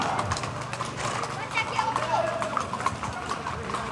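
Horses clip-clopping along a street in a large cavalcade in Bonito, Pernambuco, with many hooves clattering at a steady walking pace beneath someone talking, plus a short whinny in the middle.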